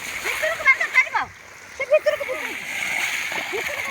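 Water rushing and splashing as it is diverted into a dry field, a steady close wash of flowing water under a voice talking over it.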